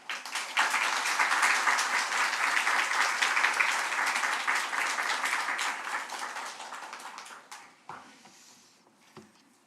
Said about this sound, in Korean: 오늘 우리 목사님 나오실 때 목사님 보내주신 하나님께 감사하며 박수로 환영하겠습니다.